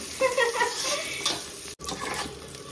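Onions sizzle and fry in a pot while a spoon stirs them, scraping and clinking against the sides in a close, busy mix of crackling and stirring during preparation of chicken pulao.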